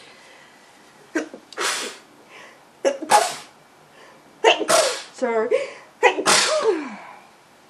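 Several sneezes in quick succession, loud and close, with a brief spoken word in between.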